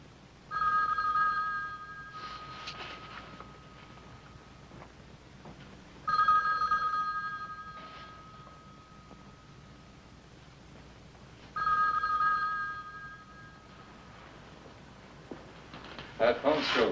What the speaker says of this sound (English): That phone's still ringing.